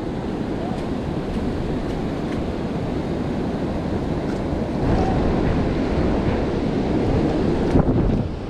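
Ocean surf washes in on the beach at Seagate Avenue in Jacksonville, Florida, a constant close rush of water mixed with heavy wind buffeting the microphone.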